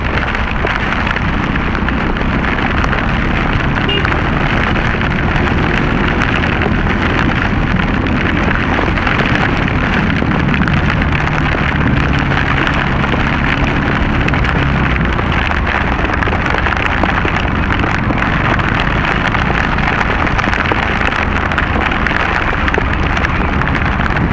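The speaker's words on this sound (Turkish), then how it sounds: "bu nasıl yağmur?" Heavy rain in Istanbul pours down loudly and steadily, a dense, unbroken hiss of drops pounding the ground close by.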